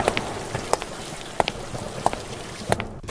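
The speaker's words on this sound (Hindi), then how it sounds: "कहाँ बारिश में भीगते हुए जा रहे हो?" Steady rain patters outdoors in a village, a dense hiss broken by scattered heavier drops and soft thuds, with no voices.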